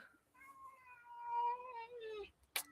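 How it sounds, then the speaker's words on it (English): A pet cat named Stormy, out on a harness near its outdoor catio, gives one long drawn-out meow that rises into a growly caterwaul. It is close and clear, and a short sharp knock follows. "Why are you meowing at me like that, Stormy?"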